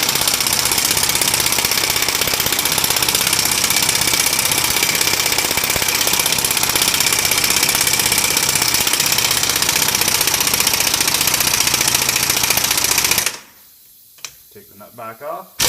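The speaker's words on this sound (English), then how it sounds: "I'm setting these in with my impact on the lowest setting" Impact wrench on its lowest setting driving a lug nut to seat a new wheel stud on a Land Cruiser BJ70: a loud, continuous rattling hammer for about thirteen seconds, then it stops abruptly, leaving faint clicks.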